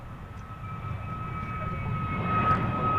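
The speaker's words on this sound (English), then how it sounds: "American flight going to San Francisco. It's an Airbus A321neo, flight 1430." An American Airlines Airbus A321neo jet bound for San Francisco, flight 1430, rumbles steadily at DFW Airport, a broad low engine roar with a thin whining tone above it, growing slightly louder toward the end.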